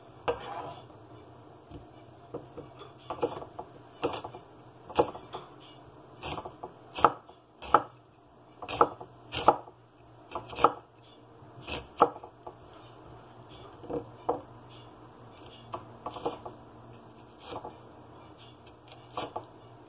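Onions being chopped with a knife on a board, a series of crisp close thuds in irregular bursts, some quick runs of cuts and pauses between, with a low steady hum behind.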